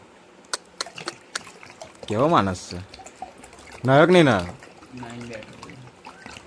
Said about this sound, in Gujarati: આજે બોટલમાંથી પાણી નીકળે છે